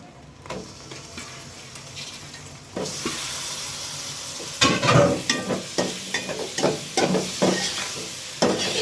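Fish dropped into hot oil in a pan for a Bengali-style curry, a steady sizzle rising sharply as the fish goes in, with stirring scrapes and clatters punctuating the frying, close and fairly loud, no talking.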